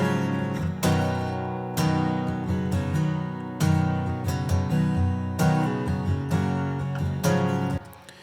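Acoustic guitar chords strummed steadily in a live performance, each ringing out into a spacious chamber reverb tail that fills the gaps between strums.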